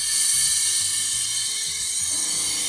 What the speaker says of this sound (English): This is an air-operated vacuum pump, meaning you hook compressed air up to the side and you get vacuum